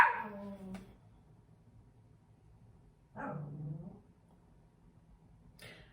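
A dog barks and whimpers in a few separate bursts: a loud whine-bark at the start, another near yelp a few seconds later and a faint yip at the end, with quiet room tone between.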